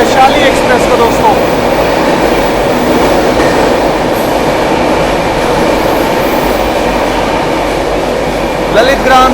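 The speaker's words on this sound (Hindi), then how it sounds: "यहाँ गजब की रफ्तार में स्किप कर रहे हैं टूंडला जंक्शन को एंड ओवरटेक भी कर रहे हैं यहाँ पर हम लोग वैशाली एक्सप्रेस को दोस्तों" The Bihar Sampark Kranti Superfast Express speeds through Tundla Junction, heard from inside a 2AC coach as a loud, steady rumble of wheels and carriage noise that runs unbroken throughout.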